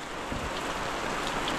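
Rain pours down steadily, a dense even hiss of drops hitting surfaces nearby with no pauses and no voices.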